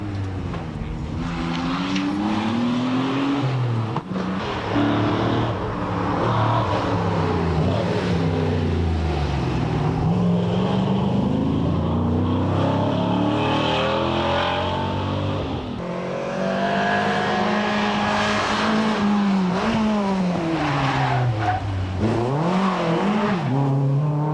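Nissan 300ZX rally car racing flat out in a Targa tarmac rally event, a loud, sustained engine roar that rises and falls through gear changes, with swooping pitch as the car passes and faint tyre squeal.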